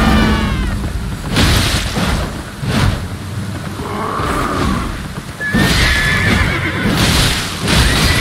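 A horse neighs loudly in Elden Ring, with several whinnies rising and falling, alongside heavy thuds and rumbling effects.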